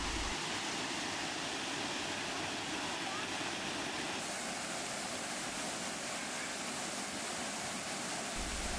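Steady, broadband rushing of the Coban Segeraya waterfall in Tretes, Indonesia, constant and unbroken throughout, heard from a moderate distance with no voices.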